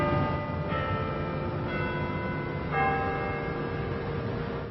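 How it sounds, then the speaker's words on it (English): Church-style bells ring from the Tillman Hall tower at Clemson, steady overlapping tolls sustaining loud and clear across the campus with new strikes layered every second or so, no talking. "The bells ring out from Tillman Hall is loud and clear"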